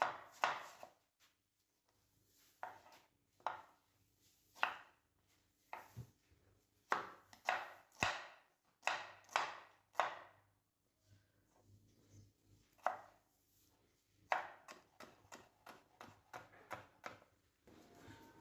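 A knife chops raw green mango into fine cubes on a board, with steady close, crisp knocks in quick runs and short pauses, quiet and without talking.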